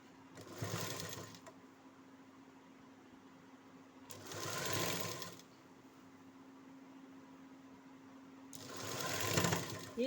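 A sewing machine stitches a nightie in three short whirring bursts over a constant low electric hum, with quiet pauses between the runs.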